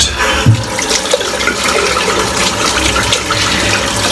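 Running tap water pours steadily as a shaving brush is rinsed beneath it, a loud, continuous close rush with a brief splash near the start.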